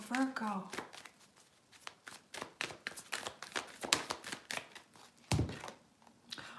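Rapid, repeated riffling and slapping of a tarot card deck being shuffled up close, in quick bursts, with a voice heard briefly at the start and again near the end.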